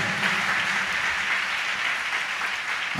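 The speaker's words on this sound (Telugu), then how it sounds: "చప్పట్లు కొట్టి ప్రభుని స్తుతిద్దాం గట్టిగా" A church congregation at a Sunday service claps together in dense, sustained applause that fills the room at an even loudness throughout.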